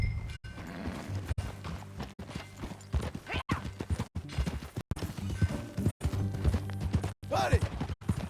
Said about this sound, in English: Buddy, that a new horse?